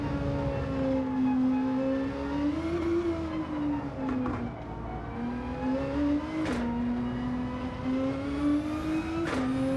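A GR3 race car in Gran Turismo 7 drones loudly and continuously, engine pitch rising and dipping as it accelerates and lifts off, with brief tire noise and gear-change blips during a league race.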